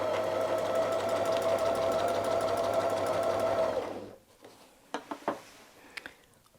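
A sewing machine stitches ruler-work quilting on a dahlia pattern, a fast close mechanical whir for about four seconds that then stops, followed by a few soft handling taps and rustles.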